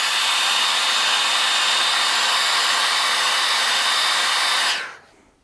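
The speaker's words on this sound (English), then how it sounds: "I'm going to take my hair dryer here and I'm just going to blow dry this to a dry touch." Hair dryer blow-drying airbrushed paint, a loud steady hiss of blowing air held for several seconds before switching off and quickly winding down to silence.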